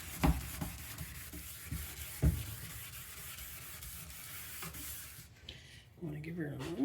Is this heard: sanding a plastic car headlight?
yes